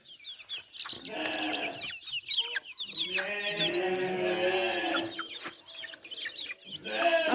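Chickens and ducklings feeding on a farmyard, with close, busy clucking and high peeping calls overlapping almost continuously and rising and falling in waves.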